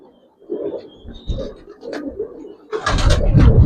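Giribaz coloring pigeons cooing close by on a windy day, soft low coos repeating through the clip and growing louder and fuller toward the end.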